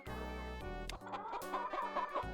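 Chickens in the business simulation game Capitalism Lab cluck in a short burst of overlapping squawks and clucks, close and moderately loud, over a steady synthetic background tone.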